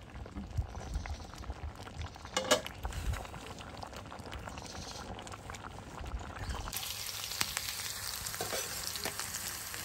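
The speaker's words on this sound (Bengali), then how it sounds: "আমি এখানে পেঁয়াজগুলো ভেজে নিচ্ছে বাগার দেওয়ার জন্য।" Onions frying in hot oil for a baghar tempering to finish a vegetable curry: a steady, dense sizzle with a few stirring knocks, growing into a louder, brighter hiss in the last few seconds.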